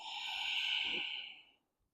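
Long, steady exhale through the nose during a calming yoga pose, a close, soft airy breath that fades out into silence.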